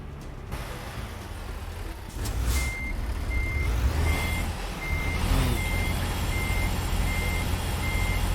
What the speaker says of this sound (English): the deafening noise of a truck engine running